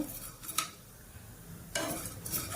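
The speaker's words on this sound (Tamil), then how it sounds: "கடைசியாக அதையும் சேர்த்து ரெண்டையும் சேர்த்து லைட்டாக வறுத்து தரேன்" Peanuts and Maggi noodles being lightly roasted together in a pan, with two distinct bursts of scraping and rattling between quieter stretches of faint low background noise, no voices.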